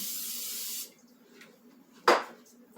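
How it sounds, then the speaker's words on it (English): Cooking spray hisses from a can into a measuring cup in one close, steady burst lasting under a second, followed by quiet and a single sharp clunk. "I'm going to spray this"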